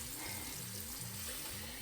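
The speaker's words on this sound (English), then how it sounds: "I use cool water." Cool tap water runs steadily into a bathroom sink for face washing, a continuous hiss and splash with a low rhythmic churn, close and moderately loud with no talking.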